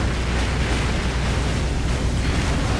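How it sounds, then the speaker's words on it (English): In Dark Souls' Lost Izalith, a boss smashes through the floors with a steady, loud, dense rumble of crumbling stone and roaring fire that holds unbroken throughout. "It's breaking the floors, and it's poking us with its giant fire stick."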